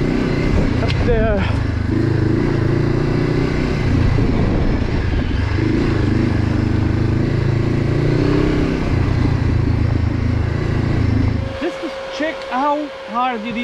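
A Honda CB and a KTM motorcycle ride along, engine drone and road rumble steady and loud for most of the stretch before dropping off near the end, with riders talking over the noise.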